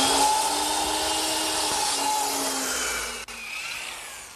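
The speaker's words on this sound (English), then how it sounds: "now I'm going to bring it over to my miter box and cut it back at about 33 degrees" A miter box saw cuts through wood at about 33 degrees in a woodworking shop, giving a steady, loud rasping buzz that runs unbroken for a few seconds before a brief dip near the end.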